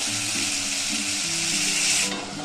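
Water poured into a hot pan of egg curry with brinjal sizzles and fries loudly, a dense close hiss with stirring scrapes underneath that drops off sharply near the end.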